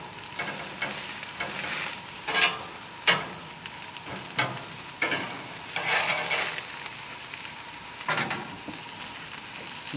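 Asparagus spears cooking on a grill for a vegetable platter, a soft steady sizzle broken by several sharp clattering handling noises and scrapes, close up and without talk.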